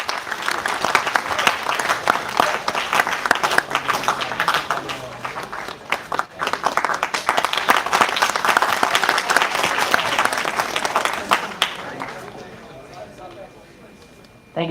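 Sustained applause from an audience at an emerging technologies session in Greater Noida, honouring the chief guest; dense continuous clapping swells and holds for about twelve seconds, then fades to scattered claps.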